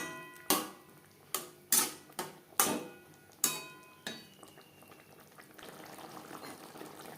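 Water from rinsing the spice bowl is poured into a simmering shing fish curry with raw banana, producing a series of sharp splashes and sizzles, six or so close hits, followed by steady bubbling.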